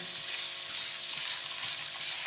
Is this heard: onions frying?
yes